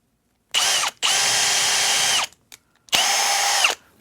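Loud power drill with a newly sharpened bit runs in three bursts: a short one, a longer sustained whir, then another, with brief quiet pauses between.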